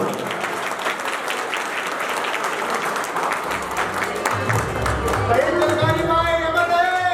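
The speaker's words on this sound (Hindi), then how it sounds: "तालियों की आवाज कम ना हो" A large crowd claps steadily and loudly at a Koli community gathering in Haryana. The dense applause carries on throughout, with voices and tonal sounds rising over it toward the end.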